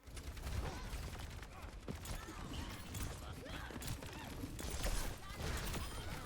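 Overwatch gameplay with Genji's primary fire shuriken throws crackling amid dense, busy game effects, a steady loud wash of combat noise with repeated sharp bursts and voices talking over it.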